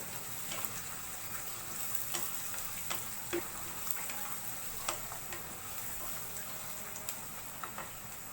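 Bay leaves fry in oil with softened onions, making a steady, fairly quiet sizzle with light crackles and ticks throughout.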